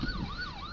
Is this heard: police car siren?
yes